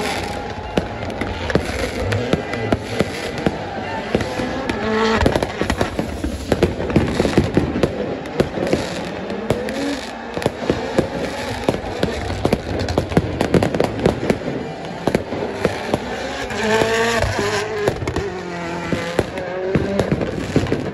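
A Ford M-Sport Puma rally car at the Monte Carlo Rally in the hills above Monte Carlo, heard as a loud, rapid string of engine crackles and popping bangs from anti-lag, with rough engine roar rising and falling nearby.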